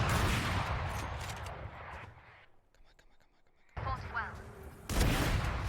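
Bursts of gunfire in a tactical shooter match with a sniper on the opposing side, dense shots and clatter through the first two seconds, a quiet gap, then renewed loud firing near the end, with faint whispered voices mixed in.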